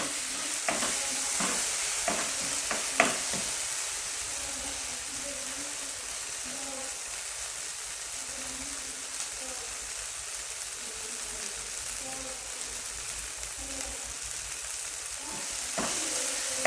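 Egg thoran with tomato and salt stir-frying in a pan gives a steady, soft sizzle, with a few sharp scraping stirs near the start and again at the end.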